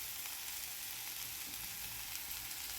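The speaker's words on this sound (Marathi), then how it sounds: "त्यानंतर आपल्याला यामध्ये एक टोमॅटो ॲड करायचं आहे बारीक चॉप करून घ्यायचं आणि मग ॲड करायचं छान सगळं व्यवस्थित असं परतून घ्यायचं" Chopped onion and tomato sautéing in a pan with spices, giving a steady, moderately loud sizzle with a faint stirring scrape, heard alone.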